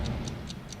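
A bomb ticks in the video game Lollipop Chainsaw, giving four evenly spaced sharp ticks close up over a low background hum.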